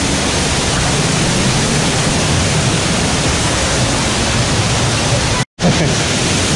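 A waterfall roars as a loud, constant broadband rush with no let-up, broken only by a split-second dropout near the end.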